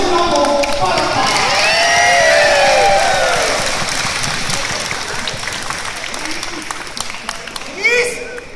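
A large audience at a muses event applauds loudly, with sustained clapping and cheering voices that peak early and then slowly taper off.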